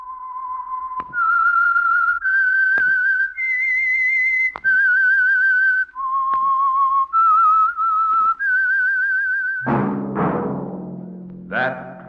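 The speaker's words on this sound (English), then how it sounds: "That whistle is your signal for the Signal Oil program, The Whistler." A man whistles the eerie theme of the old Signal Oil radio mystery program The Whistler, a slow rising and falling melody of sustained notes with faint clicks between them, ending with a short orchestral sting.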